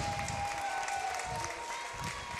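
A stadium crowd at a Rugby World Cup repechage match applauds Canada, a brief wash of distant clapping with a faint sustained brass tone from a band beneath, and a voice partly audible over it.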